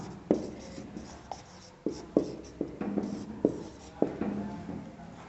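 Chalk or pen writing on a board during a Sanskrit grammar lesson, a sequence of short scratchy strokes and taps spaced irregularly, fairly close and quiet, with no talking.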